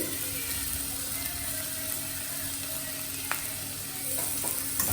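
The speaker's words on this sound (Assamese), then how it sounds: "ফটাফট ভাজিব লাগিব লৰাব লাগিব এইখিনি কাৰণ এইখিনি হাই ফ্লেমতে আছে" Sago and potatoes stir-fried quickly in a pan over high flame make a continuous loud sizzle, with a few faint knocks of stirring near the end.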